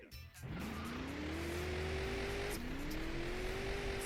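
Car engines and tyres in Grand Theft Auto 2 on PS1: a steady engine drone climbs in pitch through the gears, then restarts its rise after a brief dip, loud and continuous with no talk.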